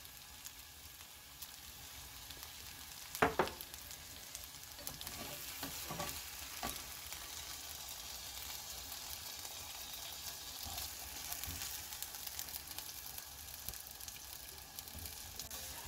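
Soy-braised mackerel, fried first, simmers in its sauce with a quiet steady bubbling sizzle. A few light spoon clinks come early as sauce is ladled over the fish, and no one speaks.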